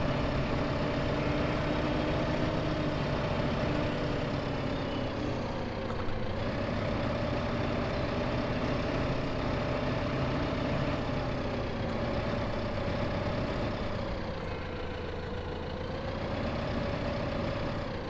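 A tractor engine drones steadily while foraging in Farming Simulator 15, a continuous humming engine tone with slight pitch shifts as the load changes, constant and close throughout.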